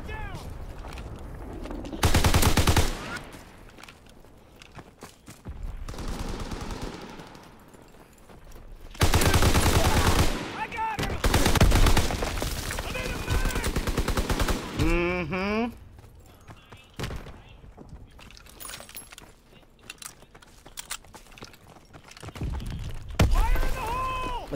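Bursts of STG rifle fire in Call of Duty WW2 multiplayer, some sustained and some brief, rattle out loud among other game effects, while people talk between and over the shooting.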